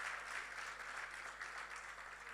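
A church congregation applauds the Lord in worship, a steady, faint wash of clapping heard from a distance with no talk over it.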